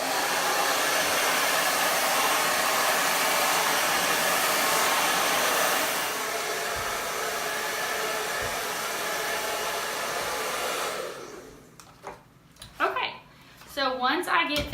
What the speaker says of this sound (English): I'm going to run a blow dryer through this wig until it is all the way dry.